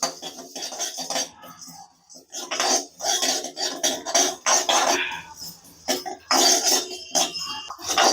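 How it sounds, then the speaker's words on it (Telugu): Fenugreek seeds dry-roasting for homemade sambar powder, stirred around a pan in repeated scraping, rattling bursts with brief pauses, close and fairly loud, with a cough or throat-clear in between. "రోస్ట్ చేసేసుకుందాం"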